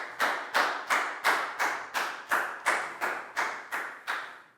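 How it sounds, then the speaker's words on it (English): A classroom of pupils claps in about a dozen evenly spaced sharp bursts, each fading quickly, close and fairly loud with no talking. "Big round of applause for Nadia"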